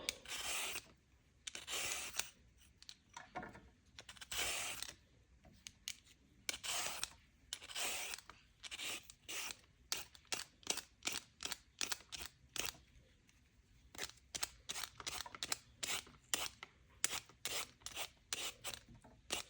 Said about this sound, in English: You can use a potato peeler to peel the carrot